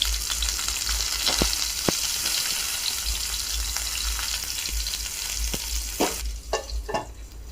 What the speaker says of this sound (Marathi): गॅसवर कढई ठेवून त्यात अगदी थोडंसं तेल टाकून त्यात लसणाची चटणी भरलेले वांगे एक एक करून सोडून घ्यायचे